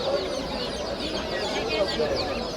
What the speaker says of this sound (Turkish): Brensya cinsi tavuk.